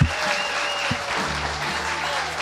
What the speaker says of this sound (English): How about a round of applause for Thelma, who brought Fox and Friends here?